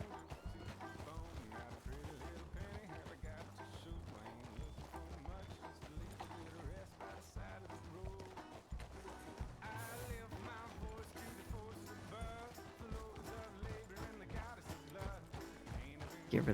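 Horse hooves clip-clop steadily as a horse is ridden along a high trail in a role-play video game, a continuous rhythmic trot mixed under dense game music and ambience.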